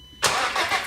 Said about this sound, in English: So almost before the engine starts up now